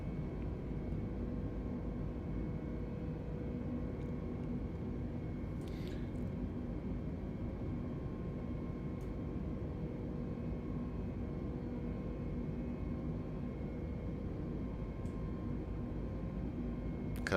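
Airbus airliner engines at climb thrust in Microsoft Flight Simulator 2020, on a flight from Jersey to Heathrow, making a steady, unbroken low roar with a faint high whine, with a few small clicks over it.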